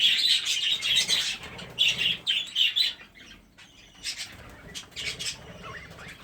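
A crossbeak rainbow budgerigar chirps in bursts of close, bright twittering, pausing briefly before resuming, while it eats seed.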